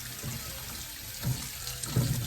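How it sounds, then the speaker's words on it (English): Cool tap water runs steadily over about a dozen cleaned raw shrimp in a bowl, a constant close splashing wash with a couple of heavier gushes, no voices. "I'm gonna put some cool water on top of this."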